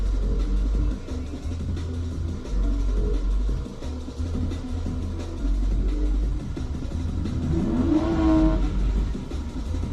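Car engine revving at a street car show, a loud, steady low rumble that rises into a climbing rev near the end, with outdoor crowd noise blended in.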